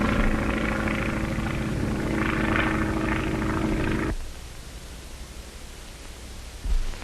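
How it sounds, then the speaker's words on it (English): Steady droning roar of a P-26A pursuit plane engine in flight, loud and continuous, then dropping suddenly to a quieter, more distant rumble. "P-26A pursuit planes, the harnessed Hornet of the air"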